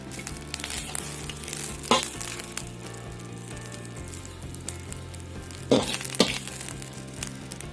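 Winged termites roasting dry in a pan give a soft, steady crackle and sizzle, with a few louder scraping stirs or crunches standing out, and no talking.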